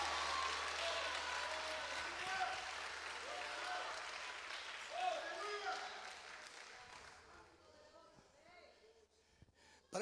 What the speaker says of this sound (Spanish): Un aplauso fuerte al Dios que vive